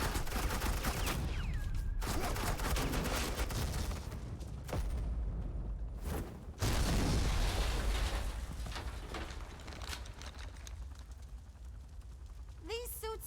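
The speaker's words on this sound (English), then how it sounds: "Suppressing fire." Suppressing gunfire in the video game Batman: The Enemy Within: dense bursts of shots and booms over a steady combat soundscape, with a short break near the middle before the firing swells loud again.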